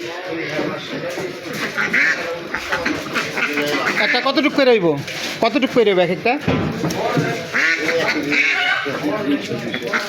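Ducks quack at a busy poultry market selling hens, ducks and fish. The calls are mixed in with constant close conversation and haggling voices.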